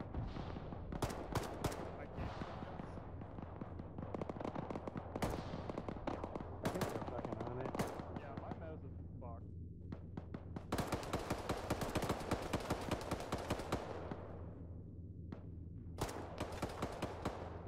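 Sustained Arma 3 firefight with dense bursts of automatic rifle and machine-gun fire, loud and close, with rapid rattling volleys and sharp single shots throughout, and voices calling out beneath the shooting.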